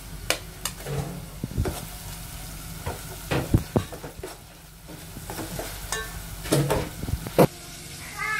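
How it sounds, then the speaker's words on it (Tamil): Washed dried fish frying in a pan with tomato and onion, giving a soft steady sizzle broken by scattered stirring scrapes and clatters, with no talk. "இதுக்கப்புறம் நான் கழுவி வச்சுருக்க கருவாடை ஆட் பண்ண போகிறேன்"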